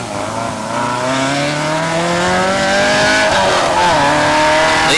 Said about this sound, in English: coming thick and fast now, the escorts, 48 of them, of the 96 entries.